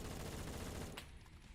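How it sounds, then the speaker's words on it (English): Rapid automatic gunfire rattles in the Phantom Forces shooter, a dense continuous burst that cuts off abruptly into quieter ambience. "Okay, I'm getting shot from nowhere."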